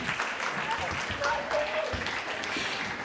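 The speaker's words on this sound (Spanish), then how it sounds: "vamos a darles un fuerte aplauso" Applause from an audience at a children's science event, steady mixed clapping throughout at moderate level, with faint voices and a few whistle-like tones over it.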